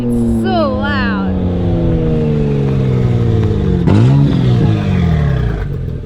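Loud, sustained revving of a Lexus with a 1JZ engine, its deep harmonic drone rising and falling steadily, heard close by with a person's voice briefly over it.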